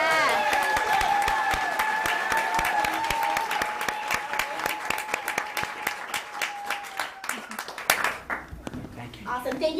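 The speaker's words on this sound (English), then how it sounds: "come on, let's have some more applause." An audience at an award ceremony applauds a prize winner: dense, sustained clapping that thins into scattered claps toward the end, with talk heard beneath it.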